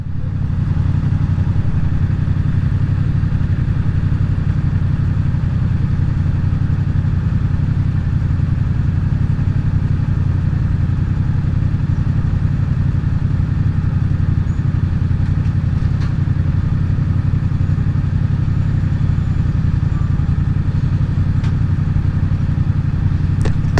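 A Honda Biz motorcycle engine runs steadily for the whole stretch, a loud, even low-pitched putter with a rough mechanical clatter, close and constant with no talking over it.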